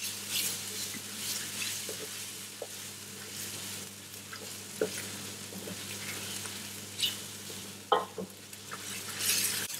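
Beef sizzles and fries in a curry pot while being stirred, a steady crackling hiss broken by occasional scraping and clinks of the utensil against the pot, close and fairly loud throughout.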